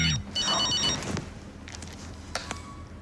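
Mobile phone ringing with a repeated electronic ring tone in short bursts, fairly close indoors, followed by quieter rustling and a few sharp clicks.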